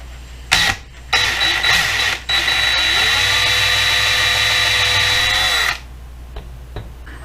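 A power drill whines steadily at high pitch for several seconds, an oiled bit grinding through material on a custom Hot Wheels Bone Shaker build, then winds down and stops, leaving quiet room tone with small clicks.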